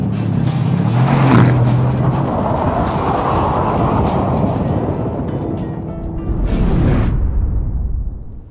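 A Mercedes-AMG GTS sports car engine roars and surges past at speed, with tires hissing on the surface, then revs rise again before fading.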